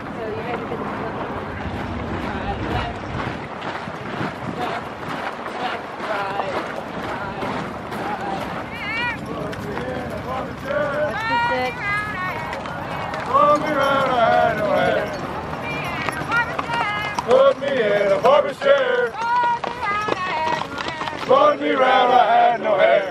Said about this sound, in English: Make sure the horses get the run.